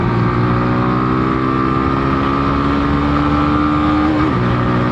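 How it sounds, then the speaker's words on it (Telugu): Hero Glamour X 125 motorcycle engine on the move, a steady loud drone with layered tonal harmonics that rise slightly in pitch before a brief dip near the end, with no talking. "ఏదో స్పోర్ట్స్ బైక్ రేవెత్తున్నట్టు అవుతుంది"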